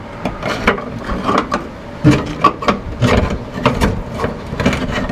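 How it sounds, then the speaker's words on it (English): A pry bar levering rear suspension parts on a 1997 Honda Civic, close irregular scraping, creaking and knocking of metal with uneven bursts. "Let me try a pry bar."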